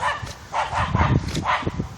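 A dog gives a few short bow-wow barks and yips at close range, sounding out in quick bursts outdoors while on a walk.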